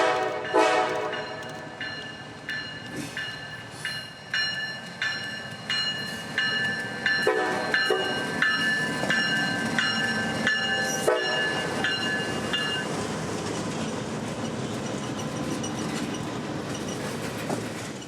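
A freight train rolls through a rail yard with a repetitive clickety-clack of wheels over rail joints, metallic squeal and ringing tones, steady and fairly close, with no voices.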